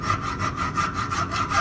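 A hacksaw cuts metal off a nut gage in quick, even back-and-forth strokes, a close, loud rasping rhythm of about ten strokes with nothing else heard.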